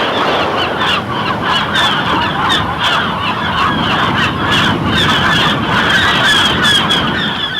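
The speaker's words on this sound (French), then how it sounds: "Les lions de mer sont là, au milieu des mouettes" Sea lions calling among seagulls, a dense, loud and continuous chorus of honking barks and cries with no pauses.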